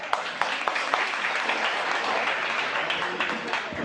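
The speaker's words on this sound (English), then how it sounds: "Clap for that." A crowd at a self-defense speech claps steadily, a dense, fairly loud wash of hand claps with a few sharper individual claps standing out, lasting a few seconds without talk.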